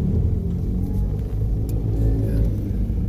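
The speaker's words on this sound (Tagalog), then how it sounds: "sobrang traffic. Paakyat ito sa Old Zigzag eh." Heavy, slow-moving road traffic climbing the Old Zigzag road in Pagbilao, Lucena, with a steady low rumble of car and truck engines close by and continuous, with no voices.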